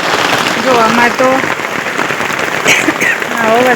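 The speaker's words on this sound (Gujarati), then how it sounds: "વરસાદ વધારે પડી ગયો છે" Heavy rain pours down in a steady loud hiss during a rural downpour where a buffalo is sheltered, with voices talking over it at intervals.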